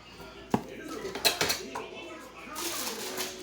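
Dirty pots, pans and dishes clatter and clink as they are gathered for washing in a home kitchen at night, a few sharp metallic knocks and scrapes close by, with a person talking over them.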